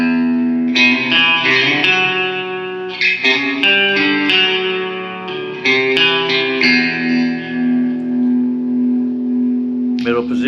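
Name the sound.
Ibanez RG electric guitar clean tone, bridge pickup, reverb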